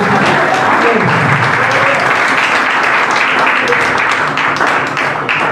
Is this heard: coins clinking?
no